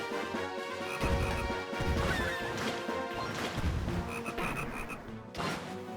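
Croaking from a frog in Zelda: Phantom Hourglass mixed with heavy thumps and crashes, loud and cluttered over game music.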